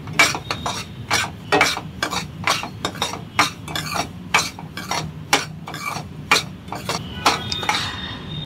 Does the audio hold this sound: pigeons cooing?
no